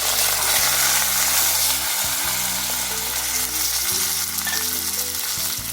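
Onion fries in a pan with cumin and a pinch of asafoetida, giving a strong, continuous close sizzle with a low steady hum beneath and faint stirring.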